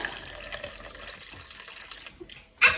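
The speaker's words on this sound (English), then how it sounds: "Put the filtered water in there. Right into the bowl." Filtered water trickles softly into a bowl in a home kitchen, a faint running pour that ends in a brief, louder splash.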